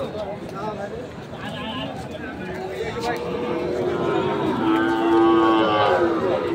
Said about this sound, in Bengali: আমবাড়ি হাটে যে সাইওয়াল জাতের বাছুর গরুগুলো প্রায় বিক্রয় করা হচ্ছিল